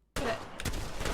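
A single sharp gunshot from Revenant's weapon in the Apex Legends video game bursts in after a moment of silence, loud and close, followed by trailing reverb and faint further shots.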